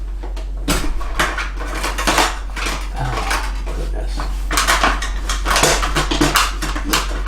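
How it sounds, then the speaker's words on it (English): Utensils clatter and rattle as someone rummages through a kitchen drawer for a spatula, a steady busy jangle of metal with a brief spoken exclamation over it. "Let's see if I can reach in my drawer here."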